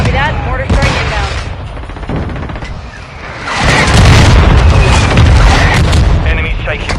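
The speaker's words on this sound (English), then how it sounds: "Mortar strike inbound." Mortar strike explosions in Call of Duty Modern Warfare 2 on PS5: heavy booms and bursts of gunfire roll together into a loud, sustained barrage that swells midway, with game voices mixed in.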